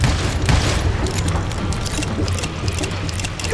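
Rapid gunfire rattles through a Call of Juarez Gunslinger shootout, with scattered shots and a heavier boom early on, loud and continuous under a busy game soundscape.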